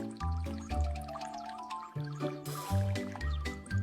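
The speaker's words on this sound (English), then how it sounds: "Chloe, please pour the milk slowly" Milk poured slowly into cake batter for a homemade birthday cake makes a soft trickling, dribbling liquid sound in uneven spurts, close and quiet.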